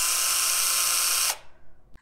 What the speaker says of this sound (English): So today we have Black & Decker drill. This is cordless drill.